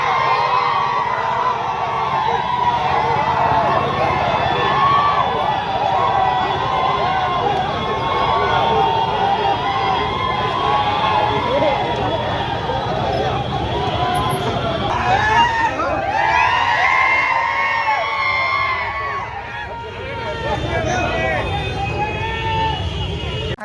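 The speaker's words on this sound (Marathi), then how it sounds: "मैनुद्दीन बागवान यांच्या समर्थकांनी जोरदार जल्लोष साजरा केला" Supporters of Mainuddin Bagwan cheer and shout outside the nomination scrutiny in Miraj, a loud, continuous crowd roar with excited voices and chatter that dips briefly before swelling again.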